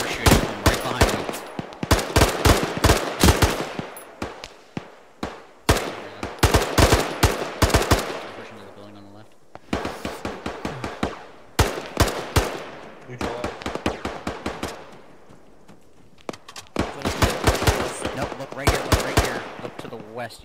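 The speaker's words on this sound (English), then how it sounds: "You have a sniper shooting from right behind you." Bursts of rapid automatic gunfire in the military game Arma 3, loud and close, broken by short pauses, with faint voices now and then between volleys.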